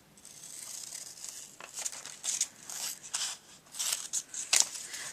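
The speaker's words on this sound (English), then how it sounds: "then we'll just take our scissors and cut this out." Quiet, close snipping and crinkling as scissors cut out a paper Valentine's card, in irregular bursts with short pauses, no voices.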